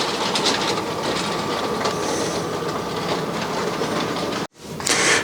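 An amusement park train runs steadily with a loud, continuous rumble and rattle of wheels on track, a brief cutoff near the end before the rolling noise returns.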